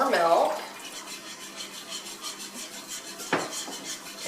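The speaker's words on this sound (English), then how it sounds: "I'm just continually going in circles, and I'm using my whisk to make sure that the gravy is thoroughly mixed together." A whisk scrapes in circles through homemade bacon gravy thickened with milk in a pan, giving a soft, continuous, rhythmic swishing beneath a person's talking, with a sharper clink partway through.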